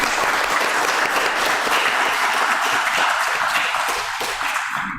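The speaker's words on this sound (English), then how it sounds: "Big applause to you." An audience at a Sunday temple service applauds, a dense, sustained wash of clapping from many hands that fills the room and fades slightly at the end.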